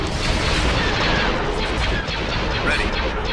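Starship weapons in Star Wars: Empire at War space combat: dense, continuous booming cannon and laser fire with heavy low rumble, loud and unbroken throughout, with battle chatter mixed in.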